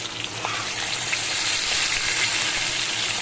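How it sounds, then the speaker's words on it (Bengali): Steady, dense sizzling of fish heads frying in hot oil, a continuous crackling hiss at close range with no voices. "আমি মাছের মাথাগুলোকে ভেজে নিই।"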